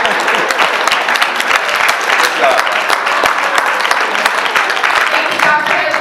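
A crowd at Dr. Robert B. Hayling's Civil Rights Hall of Fame induction gives loud, sustained applause, a thick constant roar of clapping with some voices underneath.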